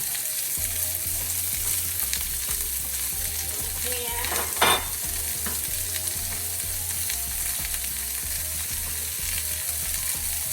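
Onions going into a hot pan for a bacon, potato and sausage frittata, a steady bright sizzle and frying crackle with a brief stirring scrape in the middle, close and continuous.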